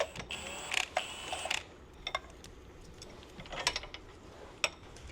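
A wrench working a sway bar bolt on an Infiniti G35/G37 sedan, giving a series of sharp metallic clicks and ratcheting ticks in irregular bursts, close and fairly quiet.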